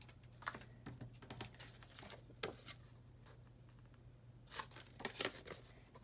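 Scissors snip paper while corners are mitered on a waterfall folio, with short crisp cutting clicks in uneven bursts, close and fairly faint over a low steady hum.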